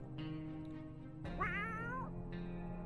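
A single cat meows in the video game 60 Seconds! Reatomized, one loud, drawn-out, wavering cry over a steady electronic hum.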